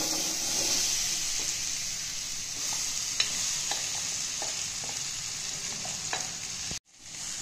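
Mango pickle being stirred with spices in hot oil, a steady sizzling hiss with occasional soft clicks of the spoon against the pan, close, ending in a sudden brief cut to silence before the sizzle returns.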